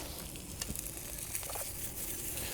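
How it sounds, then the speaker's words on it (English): Chicken sizzles steadily in butter in a hot frying pan outdoors in woods, a constant crackling hiss with a few soft pops and scrapes, close by and with no voices. "There's the sizzle."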